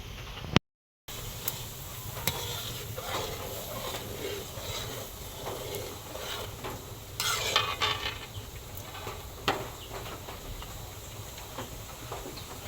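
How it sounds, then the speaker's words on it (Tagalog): Coconut milk boils down in a pot to make coconut oil while it is stirred: a low bubbling simmer runs throughout, broken by repeated scraping strokes of a spoon against the pot, one louder burst of clatter near the middle. "Hahaluin ko pa po yan."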